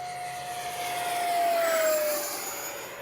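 An H-King Flycat V2 RC jet flies past at full speed, its high turbine whine swelling as it nears and falling in pitch as it passes, steady and fairly loud with no talk.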